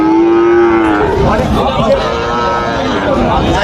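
A calf moos once, a long low call near the start, amid the busy chatter and bustle of a crowded cattle market in Joypurhat, Bangladesh.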